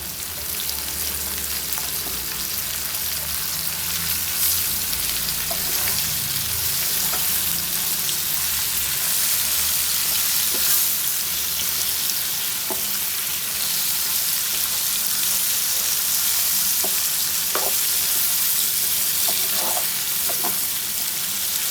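Pumpkin cooks in a pan with whole chilies, turmeric and salt, a constant soft sizzle with occasional light stirring clicks, close and fairly quiet, no voices.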